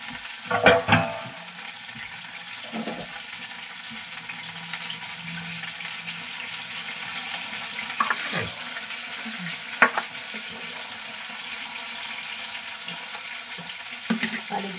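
Eggplant frying in a pan gives a steady, close sizzle, broken by a few clinks and light scrapes of stirring.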